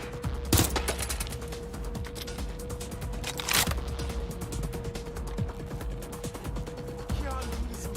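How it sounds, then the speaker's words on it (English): Gunfire in Watch Dogs Legion, rapid rattling shots running throughout with two sharper loud bursts, dense and close, over a steady tone. "Let me shoot!"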